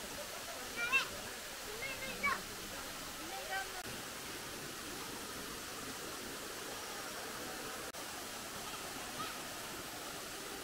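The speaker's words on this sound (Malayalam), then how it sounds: "വെള്ളച്ചാട്ടവും കുളവും പടർന്നു കിടക്കുന്ന വേരോടുകൂടിയ മരങ്ങളും" Water pours steadily over the Anachadikuthu waterfall into its pool, a dense, even rushing roar that fills the whole stretch, with faint voices and a few small knocks barely showing above it.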